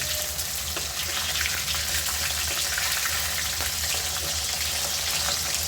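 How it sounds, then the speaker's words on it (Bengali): Pieces of pabda fish frying in a pan, a dense continuous sizzle and crackle of hot oil heard close and steady throughout. "এখানে আমি মাছগুলো এখন ভেজে নিচ্ছি।"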